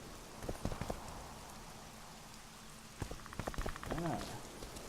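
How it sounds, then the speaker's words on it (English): Rain in the video game The Witcher 2: Assassins of Kings, a soft steady hiss of rainfall with scattered clicks and thumps, faint under a voice talking over it. "it's raining"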